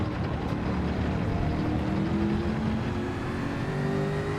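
A race car engine in Gran Turismo 7 drones steadily and loudly throughout, its pitch rising as it accelerates down a straight.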